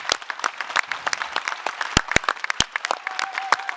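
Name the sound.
audience applause for the venue technicians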